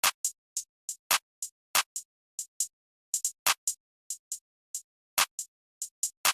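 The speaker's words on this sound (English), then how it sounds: "Next is the hi-hat" A programmed hi-hat pattern in an FL Studio new jazz beat ticks in short, bright, crisp hits with uneven, skittering spacing and varying loudness, isolated and dry.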